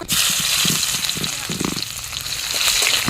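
Onions hitting hot oil in a pan during Bengali home cooking, a loud, dense sizzle and crackle that stays intense throughout, with a bit of stirring or scraping underneath.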